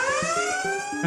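A Planet Fitness lunk alarm sounds as a loud, continuous electronic siren tone with rising harmonics, steady throughout the brief moment and heard alone.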